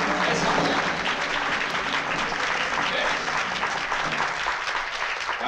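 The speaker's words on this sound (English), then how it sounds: "Ladies and gentlemen, have a nice round of applause." Sustained audience applause for a Caribbean orchestra, a dense steady wash of many hands clapping at close range that fills the whole stretch without letting up.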